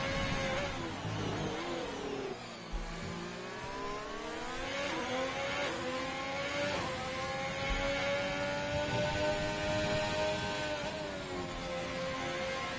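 F1 race cars in a racing video game at the Vietnam circuit, a dense layered whine of engines rising and falling in pitch as cars accelerate and pass, loud and continuous with no talk.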